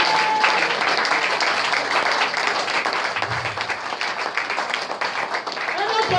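A church congregation applauds the Lord during a French-language sermon: dense, steady clapping from a crowd fills the whole stretch, with voices mixed in.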